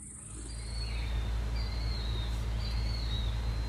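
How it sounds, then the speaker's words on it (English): Faint high bird calls repeat in a few thin, whistled phrases over a steady low hum, distant and quiet. "Listening to the birds,"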